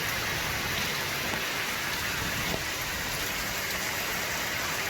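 Steady rain falls on a home ringed by banana, areca nut, coconut and mango trees. It makes an even, soft, continuous hiss with no pauses.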